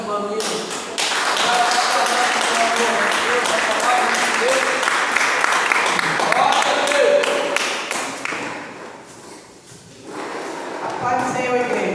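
A church congregation at a Pentecostal healing and deliverance service claps together in a sustained, busy patter, voices calling out over it before the clapping briefly fades and picks up again.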